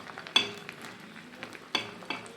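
Soft sizzling of pumpkin flowers frying in oil, punctuated by a few sharp clacks of a spatula against the pan; quiet and close.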